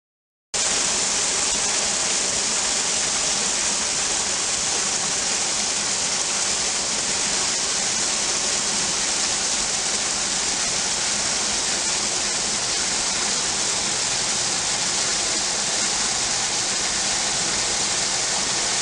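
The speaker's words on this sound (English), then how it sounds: "The waterfall is plunging off the clay surface into a collapse in the hawthorn group." A waterfall plunges off a clay surface into a sinkhole collapse along a spring-fed Florida river, making a steady, loud, broadband rushing roar that continues unbroken throughout with no voices.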